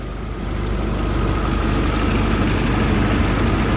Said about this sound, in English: up top here, my goodness, it's quiet and it's smooth